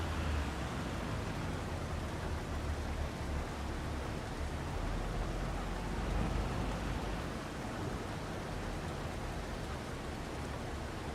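Steady rain falls during a spinach harvest in the Farming Simulator 25 video game, an unbroken, even hiss of downpour with a soft low rumble beneath and no voices.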